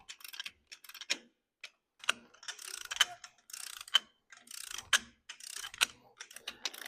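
A hand ratchet clicks in quick bursts while snugging down cylinder head bolts on a tractor engine, close and crisp, with short pauses between strokes.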